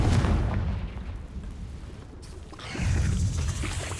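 A Confringo blasting spell exploding in Hogwarts Legacy, a loud booming burst with rumbling decay, followed by another swelling blast near the end.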